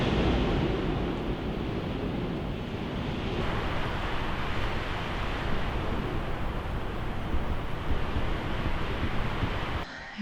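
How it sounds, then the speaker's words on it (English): Strong wind blows outdoors across a waterlogged field, a loud steady rush buffeting the microphone without a break until it cuts off abruptly at the end. "It is really windy"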